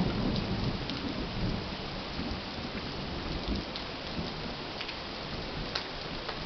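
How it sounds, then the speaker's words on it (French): Rain falls steadily outdoors at La Malinche, a dense, even hiss of drops with a low rumbling undertone, constant and fairly close, with no voices. "Vous pouvez écouter, c'est la pluie."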